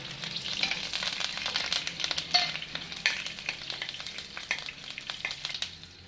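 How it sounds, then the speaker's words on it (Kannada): Green chilies sizzle steadily in hot oil in a pan, a continuous crackling hiss with occasional sharper pops and stirring scrapes, close and moderately loud, with no talking. "ಕಾಯಿ ಮೆಣಸು ಹಾಕಿದೆ ಸ್ವಲ್ಪ ಫ್ರೈ ಮಾಡಿ"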